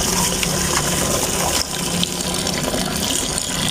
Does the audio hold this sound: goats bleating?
no